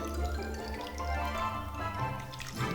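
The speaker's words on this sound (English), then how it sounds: "Into our saucepan goes 340 grams of granulated sugar and 170 grams of plain water." Granulated sugar and plain water are poured into a saucepan, a continuous close trickling and splashing with small drip-like ticks that runs through the whole stretch at an even, moderate level.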